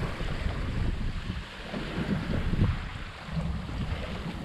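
A sailboat sailing between Carriacou and Prickly Bay, Grenada, with a steady wash of wind and waves and heavy wind rumble on the microphone throughout.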